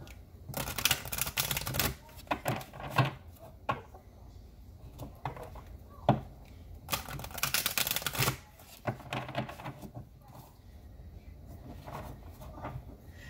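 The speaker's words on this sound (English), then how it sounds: "I was shuffling the cards" Green Witch oracle cards being shuffled by hand, giving bursts of crisp riffling and flicking rustles that come and go in clusters, close and fairly quiet, with no talk.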